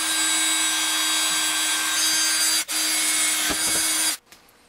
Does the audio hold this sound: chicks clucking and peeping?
no